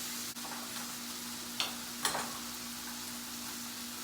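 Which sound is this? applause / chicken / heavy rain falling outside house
chicken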